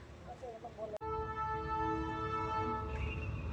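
A train horn sounds with sustained tonal blasts over rumbling rail noise from a passing container freight train near a port, following a brief sharp click.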